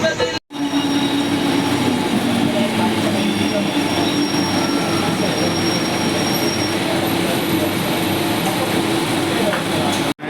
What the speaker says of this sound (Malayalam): ഇതാണ് നമ്മുടെ local train, Mumbai local train